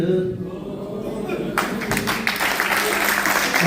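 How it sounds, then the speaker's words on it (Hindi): An audience at a political gathering breaks into loud, dense clapping that welcomes MP Manoj Tiwari, starting suddenly partway through after a voice over a low hum. "जोरदार ताली से अभिनंदन माननीय मनोज तिवारी जी का"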